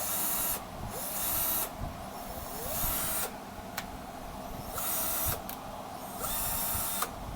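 A Ryobi cordless drill with a built-in light runs in bursts, its whirring motor rising and falling in several short pulses with brief pauses between them, fairly faint and with no talk.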